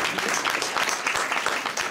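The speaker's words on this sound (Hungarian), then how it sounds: "egy nagy tapsot kérnék." Audience applause at a live talk and quiz evening, a continuous, moderately faint wash of many hands clapping with no voices over it.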